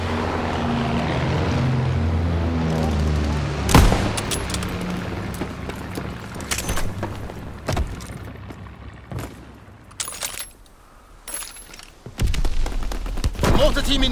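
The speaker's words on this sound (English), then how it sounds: "Sending mortar rounds." Mortar rounds and gunfire from Call of Duty WWII: a steady roar of battle gives way to sharp bursts and repeated gunshots, with one heavy impact early on and loud explosive rumbles near the end.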